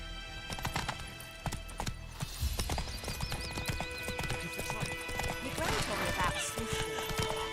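Roach the horse galloping in The Witcher 3, quick rhythmic clip-clop hoofbeats close by, with a whinny and voices speaking over the steady pounding.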